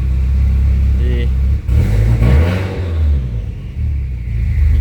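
A Subaru Bug car engine revs up in a low rumbling surge and then eases back, while someone talks over it.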